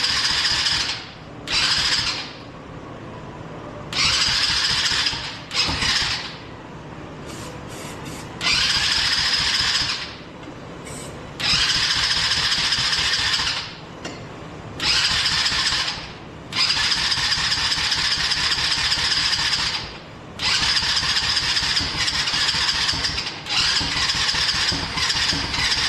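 A quad ATV engine cranks repeatedly in loud, rattling bursts of a few seconds each, separated by short pauses, as it struggles to start; the machine is one of a pair that has broken down.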